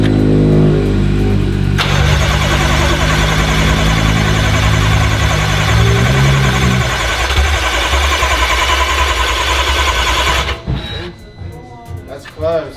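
A built BMW M5 engine cranks over with its fuel pump disconnected, a steady loud starter churn that runs for about ten seconds before cutting off, with voices talking over and after it.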